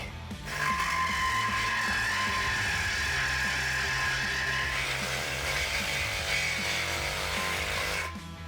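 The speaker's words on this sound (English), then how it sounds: "Now with your Sawzall or similar cutting tool, go ahead and make your cut right on your mark." Reciprocating saw cutting through the exhaust pipe of a 2019-2021 RAM 1500 5.7L during a muffler replacement, one loud continuous buzzing cut of about eight seconds that starts and stops abruptly, close up.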